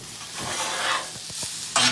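A metal spatula scrapes and pushes beef fried rice across a hot griddle, giving a soft steady sizzle with several short scraping strokes and a louder scrape at the end.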